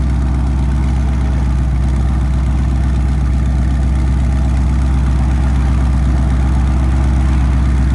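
A 2015 Ford Mustang GT with a 5.0L V8 idles with its Valvetronic exhaust valves closed, giving a loud, steady, deep rumble with an even low pulse throughout and no voices.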